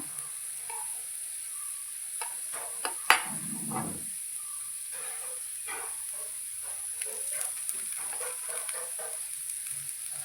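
Slices of elephant foot yam frying in a small amount of oil make a steady, quiet sizzle with a soft patter. A brief clatter of them being turned comes early, with no voices.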